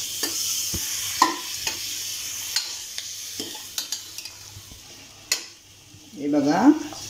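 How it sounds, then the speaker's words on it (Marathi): Mutton sautéing in a pan for a goat mutton rassa, a steady close sizzle broken by repeated scrapes and knocks of a stirring spoon, with a louder burst of frying near the end. "मी आता हे फक्त 5 मिनटं परतून घेतलं आहे"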